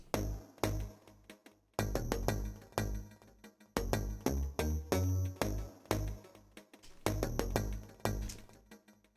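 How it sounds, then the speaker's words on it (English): A plucky mid-range synth bass line with its low end cut plays in short rhythmic stabs, notes clipped and punchy in a repeating pattern, from the Subnautica: Below Zero game soundtrack. "that's a bass instrument where I just cut all the bass out"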